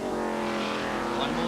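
Sport sedan race cars howl down the back straight at Pukekohe in 1988, a loud continuous engine roar with a rising whine, heard under a commentator's talk.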